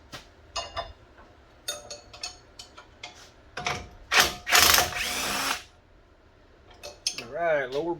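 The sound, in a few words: ratchet removing lower strut bolts on a 4Runner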